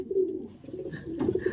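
A racing pigeon coos close by, a low throaty rolling call that swells twice in quick succession with no voices over it.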